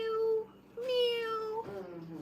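A pet cat meows indoors, two drawn-out, fairly faint calls separated by a short pause, with a brief trailing sound after the second.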